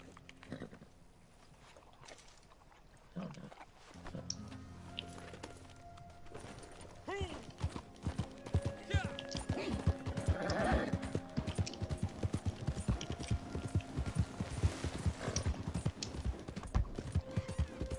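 A horse's hooves clip-clop in steady rhythm in the video game Red Dead Online, growing louder and denser midway, with a voice talking over the trotting.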